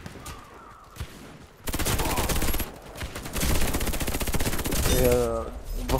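Sustained automatic gunfire in the shooter game Warface, dense rapid bursts roaring loudly for several seconds after a quieter start, with a voice speaking over part of it.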